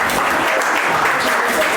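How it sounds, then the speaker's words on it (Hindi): Students in a biology class clap together loudly and steadily, a dense wash of close applause filling the room for a couple of seconds with no voices over it. "ताली बजाओ तो खुल के बजाओ"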